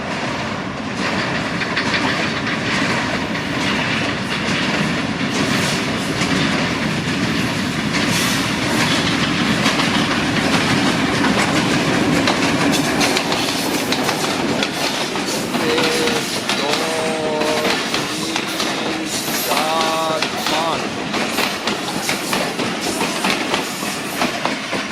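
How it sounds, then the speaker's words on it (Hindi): A short passenger train hauled by a Hitachi HBU20 diesel locomotive rolls past on the Narowal-Sialkot line, with a loud, continuous rumble and clickety-clack of wheels over the rail joints, and brief squeals partway through. "Hitachi power, Japanese power, HBU20 8059 के साथ 210 डाउन फैज़ अहमद फैज़ पैसेंजर।"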